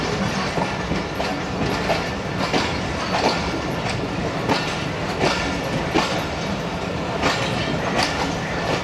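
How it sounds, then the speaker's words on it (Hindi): Karakoram Express passenger train moving along the main line on its approach to Kot Lakhpat station, with steady rumble and rhythmic clickety-clack of wheels over rail joints, close and continuous, no voices. "कोट लखपत रेलवे स्टेशन पर अब ट्रेन रुकेगी।"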